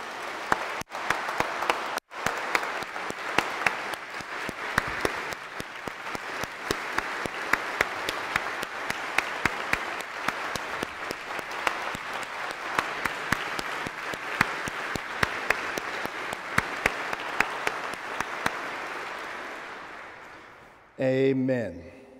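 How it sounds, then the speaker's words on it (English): A congregation in a cathedral gives a long round of applause, steady and dense for about twenty seconds before it stops abruptly and a voice speaks. "I think that deserves a round of applause."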